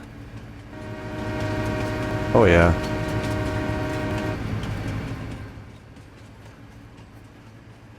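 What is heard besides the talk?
train horn honking in video game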